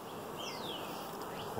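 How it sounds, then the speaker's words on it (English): Honey bees, a darker strain on a hive stacked with three honey boxes, fly in and out around the landing board in a bee yard, making a steady, soft, continuous buzz with individual bees droning past. "these others are pretty much just flying in and out and doing some little landing board cleaning and so forth"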